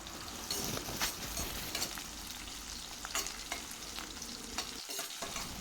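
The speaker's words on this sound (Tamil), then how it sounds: "சேர்த்துட்டு ஒரு தடவை நல்லா வதக்கி விட்டுக்கலாம்" Small onions and garlic sautéing in a pan for a Chettinad green chilli curry, a steady close sizzle and frying crackle broken by repeated stirring scrapes, with no voices.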